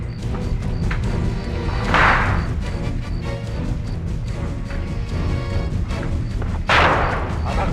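Sustained gunfire exchange from both sides in a Mumbai crime shootout, dense crackling shots and thuds with two louder bursts, continuous and close.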